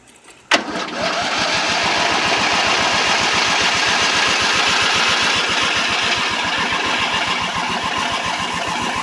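An opposed twin engine with a freshly cleaned carburetor catches after a brief click and settles into a steady, loud, fast-pulsing idle that runs on close by without any talk.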